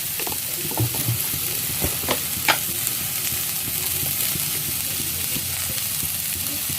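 Food sizzles steadily in a hot pan while being sautéed for hostel-style Maggi noodles. A spoon stirs and scrapes a few times early on, and after that the frying hiss runs on evenly and fairly loud.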